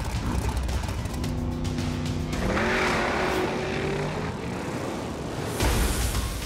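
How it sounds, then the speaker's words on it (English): Race cars passing at very high speed, with a steady roar of engines and tyres, a rising and falling engine tone as one car goes by, and a brief louder rush near the end. "Some of these cars reach over 500 kilometers an hour."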